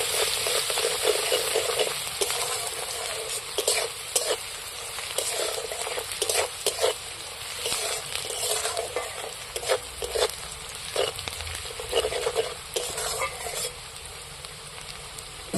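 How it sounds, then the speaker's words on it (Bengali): Onions fry in oil in a pan for a fish curry while being stirred, giving a soft sizzling hiss broken by repeated scraping stirs, fairly quiet and close, with no talking. "এবার আমি নাড়াচাড়া করে পেঁয়াজগুলোকে ভালো করে ভেজে নিচ্ছি"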